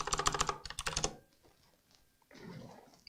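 Rapid clattering keystrokes on a laptop keyboard, a Samsung Galaxy Book3 Ultra, in two quick bursts over the first second, then quiet before a soft rustling hiss at the end.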